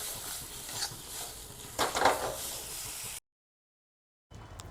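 Potato filling for kachori stirred in a pan to dry it out, a soft hissing sizzle with a brief louder burst of scraping, close, then a sudden cut to silence before the sizzle faintly returns.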